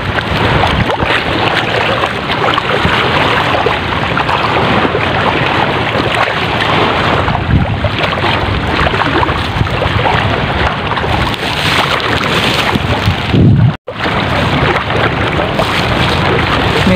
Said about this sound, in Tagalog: ngayon ay medyo nalalakas na si hanging amihan